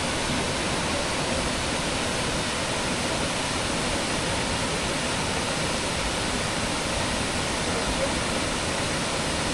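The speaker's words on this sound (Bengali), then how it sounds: "ওয়াটারফলসে এরকম জল থাকলে দেখে মজা না?" Sita Falls waterfall near Ranchi roars in a steady, dense wash of falling water that stays loud and unchanging from start to finish, with no voices over it.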